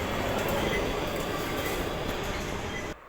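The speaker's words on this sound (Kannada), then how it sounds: "ಮೆಟ್ರೋ ಅಲ್ಲಿ ಇದ್ದೀವಿ ನಾವು ಈಗ." Inside a moving metro train, a steady loud rumble of wheels and carriage noise fills the whole stretch before cutting off sharply near the end, with no clear talking.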